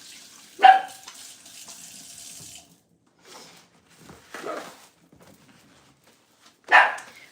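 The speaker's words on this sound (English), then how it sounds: "Paco, what are you barking about?" A dog barks in a kitchen during home cooking, three sharp separate barks spread across several seconds, with running tap water and small kitchen clatter between them.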